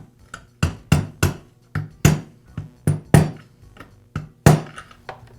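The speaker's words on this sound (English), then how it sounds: "tap it in place with a mallet" Mallet tapping on a socket set over the oil pump spring of a Poulan chainsaw, about a dozen sharp, close metallic knocks in an uneven rhythm with short ringing tails.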